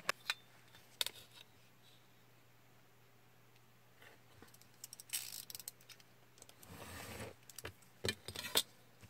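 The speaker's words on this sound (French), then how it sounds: "Et donc maintenant, je vais découper le pourtour." Paper card for a four-leaf clover design being cut around its outline, heard as a few sparse, crisp snipping and rustling bursts against a quiet background, with no talking.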